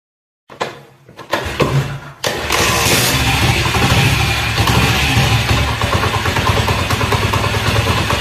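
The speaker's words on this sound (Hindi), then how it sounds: "अब करते हैं बाइक को स्टार्ट।" A motorcycle is started at close range: a few clicks and sputters, then the engine catches and settles into a loud, steady idle that continues without talk.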